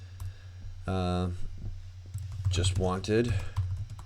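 Keys on a computer keyboard tap away softly in short bursts of typing as someone speaks over them, with a steady low hum underneath.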